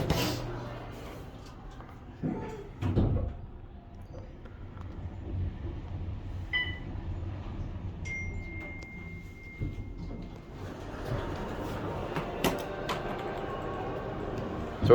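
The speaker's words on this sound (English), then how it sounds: "Door close works" Otis traction elevator doors sliding shut at The Shops at Crystals in Las Vegas, with a couple of muffled thumps and a soft rumble over steady hall ambience, plus a brief faint chime.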